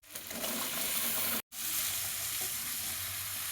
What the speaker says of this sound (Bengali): এবার এই সবজির সাথে এক থেকে দেড় মিনিট আমি ভালো করে কষিয়ে নেব